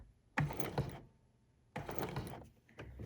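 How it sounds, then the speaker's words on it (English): Two short bursts of sewing machine stitching as a jeans hem is sewn over its thick hump, close and quiet, with a pause between runs of mechanical whirring. "And now this is just gonna allow me to stitch on this hump."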